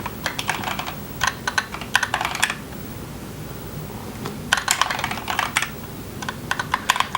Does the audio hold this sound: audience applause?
no